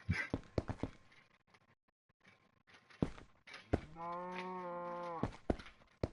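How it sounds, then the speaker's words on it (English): A single long, low Minecraft cow moo rises and holds for over a second, surrounded by sharp, isolated thuds and clicks. "Yep, I hear cows."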